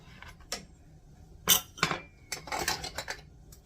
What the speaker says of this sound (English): So now we're gonna spoon that filling in there.